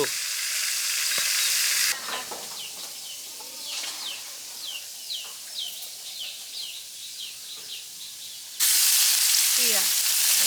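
Loud, hissing sizzle of onions frying in ghee in a pan at the start and end, with chicken clucks and bird chirps heard in between.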